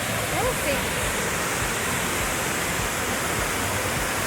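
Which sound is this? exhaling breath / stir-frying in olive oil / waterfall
waterfall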